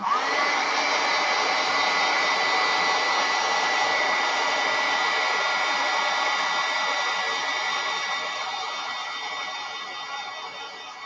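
A hair dryer blows steadily and loudly at close range while drying a craft transfer, a continuous whooshing whir with no pauses that eases slightly quieter toward the end.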